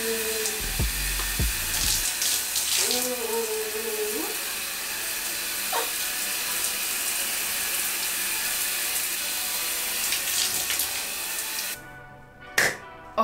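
Water runs steadily from a tap while hair and skin are rinsed, a continuous broadband hiss with a few brief clunks, stopping abruptly near the end.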